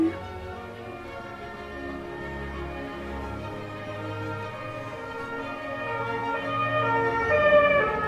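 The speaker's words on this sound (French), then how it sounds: "vous allez entendre l'ambulance ou que sais-je qui passe dans ma rue" An ambulance siren wails steadily through a residential street, its tone sweeping and growing slightly louder toward the end as it passes, heard from indoors with traffic rumble beneath.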